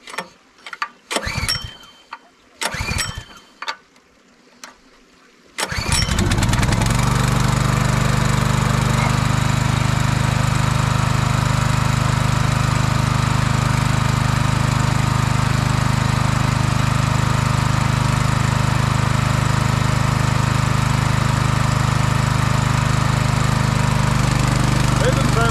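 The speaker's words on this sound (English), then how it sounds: "that's a new motor that has got a bit of load on it right now" A new water pump motor, replacing a seized one, starts after a few short attempts and then runs loud and steady under load. The close mechanical hum continues unbroken for about twenty seconds.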